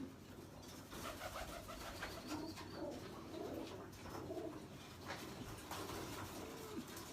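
Pigeons cooing softly in a low, continuous murmur of repeated coos, faint and somewhat distant over steady background noise, with no talking.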